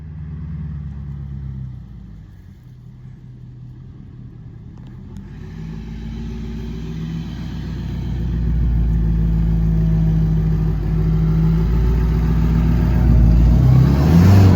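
A 1974 Ford 5500 backhoe starts cold: a low, uneven engine rumble at first, then it catches and builds into a louder, steadier running roar that keeps growing toward the end.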